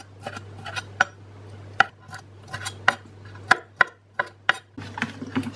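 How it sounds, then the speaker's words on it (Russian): A knife cuts large cooled shrimp into chunks on a board, giving sharp, separate knocks at an irregular pace, close and clear over a low steady hum. "Порежу остывшие креветки."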